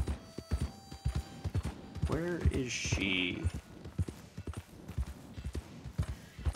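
Hooves clip-clop in a steady trotting rhythm while a horse whinnies briefly, with a voice speaking over the hoofbeats, in the video game Red Dead Redemption 2.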